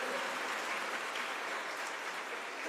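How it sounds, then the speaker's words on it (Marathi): Brisk, loud clapping from an audience at a Marathi comedy speech event, thick and evenly sustained across a few seconds, with no talking heard. "जोरात टाळ्या वाजवा एकदा."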